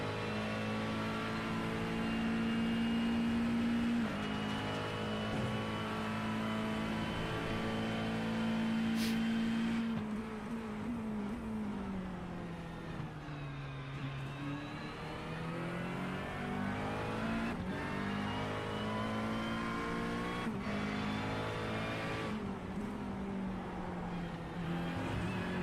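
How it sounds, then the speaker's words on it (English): On-board engine of a McLaren race car lapping Virginia International Raceway in a sim-racing game, a steady high-pitched drone that rises and falls through gear changes and braking, heard alone without talk. "Let's take a lap on board the McLaren, Bryan, and enjoy the VIR circuit."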